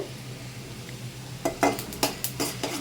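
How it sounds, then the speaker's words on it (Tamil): Chana dal and urad dal roasting in a pan crackle softly over a low hum, then a spoon stirs in several quick scraping strokes, close and moderately loud. "கொஞ்சமாக வந்து கடலைப்பருப்பும் உளுந்தப்பருப்பும் சேர்த்து நல்லா வறுத்துக்கலாம் கலர் மாறுற அளவுக்கு"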